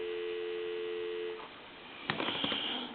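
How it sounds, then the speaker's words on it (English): A country line telephone gives a steady, humming dial tone that holds for about a second and a half, then cuts off. A few sharp clicks and handling noises follow on the line. "call one other number, give you some dial tone"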